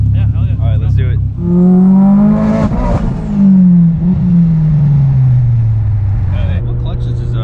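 A 900-horsepower Mitsubishi Evo X running 44 psi of boost revs loudly up close, its engine note climbing and falling in long sweeping pulls with people talking underneath.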